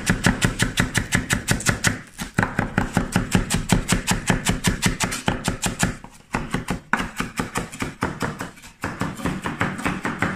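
Parsley being chopped with a knife on a board in a home kitchen, a long run of rapid, steady blade strikes close up, with only a couple of brief pauses and no talking.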